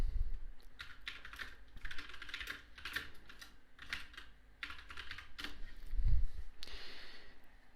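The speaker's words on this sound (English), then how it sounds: "type in some Lithuanian" Computer keyboard typing in Lithuanian, running as steady bursts of close, crisp key clicks with short pauses between words, alone with no talk over it.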